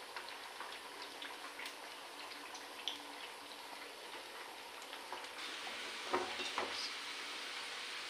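Potato chips fry in plenty of mustard oil, a faint, steady bubbling sizzle with scattered soft pops and crackles throughout.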